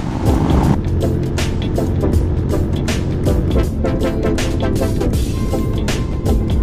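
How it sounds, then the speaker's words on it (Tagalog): A 2021 Honda X-ADV 750 motorbike accelerates toward top speed, its engine a steady, loud drone mixed with heavy wind rush, with no voices. "Testingin natin yung top speed nitong motor na to."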